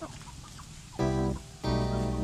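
Native chickens in a backyard range give a few soft clucks, then two louder, drawn-out squawking calls break in close by, each lasting about half a second.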